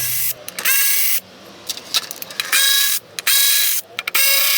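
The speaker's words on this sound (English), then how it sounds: "So I'm gonna start by taking the bolts out." A ratchet wrench loosening valve cover bolts on a Mercedes W220, rapid clicking pawl bursts close up, alternating with short pauses as the bolts are turned out.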